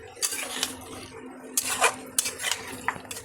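Mutton kosha is stirred in a pot with a few scraping, clattering strokes of a spoon against metal, close and moderately loud, with no talking.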